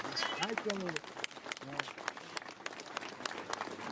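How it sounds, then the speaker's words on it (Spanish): Festival crowd at the San Pedro and San Pablo fiesta in Salinas de Garci Mendoza, Bolivia, breaking into scattered clapping, with voices and cheers mixed in near the start and sharp individual claps continuing throughout. "vamos a dar un fuerte aplauso a San Pedro y a San Pablo en esta fiesta"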